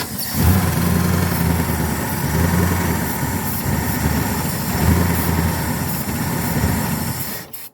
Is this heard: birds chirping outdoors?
no